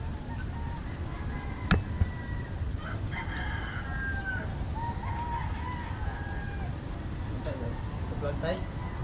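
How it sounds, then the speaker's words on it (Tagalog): Rooster crowing and chickens clucking near a river irrigation canal in Tanza, Cavite, with a few calls at middling distance over steady flowing water and background talk. "Ibon."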